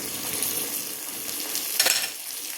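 Onion, garlic and green chillies sizzle and fry steadily in a pan for a Marathi karatoli zunka, with a brief louder burst of crackling as they are stirred.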